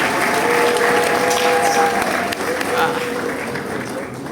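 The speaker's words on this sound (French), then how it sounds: "Est-ce que ça ne mérite pas des applaudissements?" A large crowd at a celebration honoring a Congolese musician's career breaks into steady applause, loud and continuous with a faint tonal hum underneath and some voices mixed in, easing slightly toward the end.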